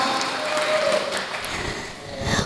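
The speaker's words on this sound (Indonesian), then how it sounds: "Tepuk tangan dong buat kita semua." At a BKKBN East Java family-planning broadcast event honoring local cadres, a crowd claps in a broad, hissing wash that stays fairly even, with a brief thinning near the end before picking up again.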